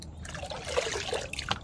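Goat-manure water mixed with NPK 888 fertilizer trickles and splashes from a bucket onto plants, a steady close pouring dribble with small splashy peaks, no talking.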